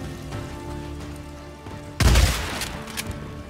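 Gunfire in the video game Days Gone, a sudden loud burst of shots after quieter ambient game sound, trailing off into scattered cracks.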